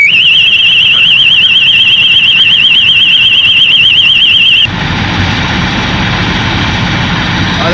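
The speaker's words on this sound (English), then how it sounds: "you're going to have the alarm go off, and also this light is going to flash" A warbling electronic alarm on a fire rescue safety device shrieks loudly, sweeping up and down rapidly over a low engine rumble. It stops abruptly partway through, leaving the heavy idling engine noise alone.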